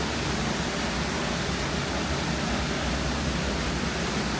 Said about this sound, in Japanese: 滝の音がすごくて音声が入ってたかどうかわからないんですけど